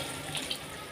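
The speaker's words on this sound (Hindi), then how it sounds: "अब इसमें डालेंगे जी 1 कप पानी" A cup of water poured into a pot of peas for pulao gives a steady, moderately loud stream of liquid with a couple of brief splashy accents and no speech.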